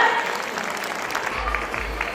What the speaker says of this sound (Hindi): तो मोदी वालों पर जोरदार तालियां।